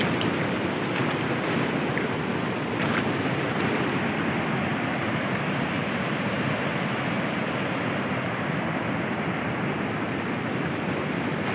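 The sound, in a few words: strong water current flowing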